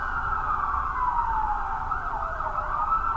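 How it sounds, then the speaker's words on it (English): A police car siren wails steadily and loudly, its tone slowly sliding downward, with faint traffic rumble underneath. "Did I just hear a cop car siren?"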